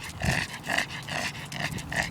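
A dog makes a string of short whining, yipping sounds in quick bursts, close by and moderately loud, with brief pauses between them.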